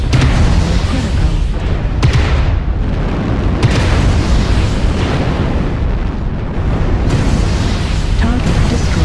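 Air strike explosions in a video game, a steady roar of rumbling blasts and bursts lasting several seconds, loud and close, with game voice announcements mixed in.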